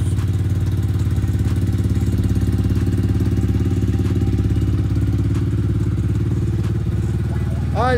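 A high-end motorcycle with a two-stroke engine running steadily on a petrol and oil mix, a loud continuous buzzing drone close by with light clatter, holding even throughout with a brief voice near the end.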